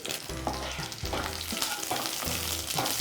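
Garlic and sesame seeds fry together in a pan with a dense, steady sizzle. Faint stirring knocks recur through the crackle.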